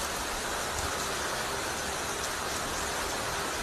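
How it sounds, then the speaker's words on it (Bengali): Heavy rain pours down steadily during a sudden afternoon storm, a dense, even hiss that stays loud and close with no letup and no voices. "এদিকে দেখো কিরকম বৃষ্টি চলে এসেছে"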